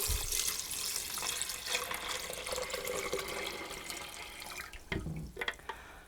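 Water from a tap pours steadily into a container for a hyacinth flower arrangement, a constant splashing rush that turns uneven with a few drips and gurgles near the end.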